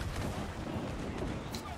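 Ship cannons in Assassin's Creed 4 Black Flag fire in a heavy, continuous rolling barrage, deep booms blending into a dense roar of naval gunfire.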